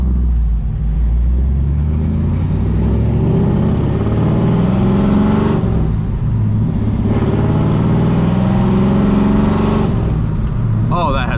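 A 1972 Dodge Demon with a 340 V8 revs while driving, its deep engine note swelling and falling through several pulls, loud and close from inside the cabin with occasional talk over it.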